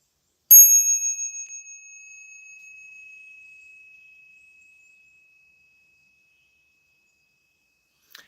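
A single bright bell is struck once and left to ring, its piercing pure tone pulsing as it fades slowly over several seconds into silence, with a faint tap at the very end.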